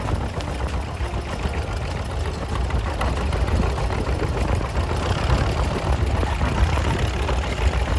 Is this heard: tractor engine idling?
yes